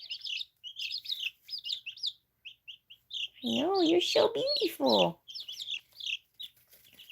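Chickens and chicks, including a Silkie, on a homestead make soft, rapid cheeping chirps with a short burst of louder clucking in the middle, close by, as someone speaks gently to them.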